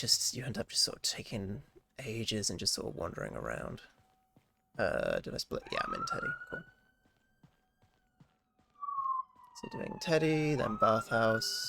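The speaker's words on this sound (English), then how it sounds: "apologise for the ambulance noise" An ambulance siren passes outside, a rising and falling wail sliding through a pause in conversation, heard at moderate distance with someone talking before and after it.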